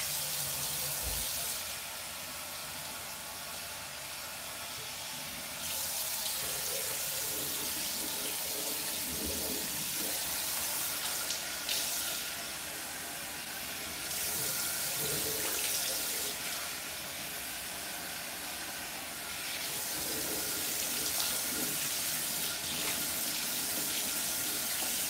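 Water from a tap runs in steady, hissing bursts while hair is re-wetted, with the flow stopping and starting several times over a long stretch and no talking.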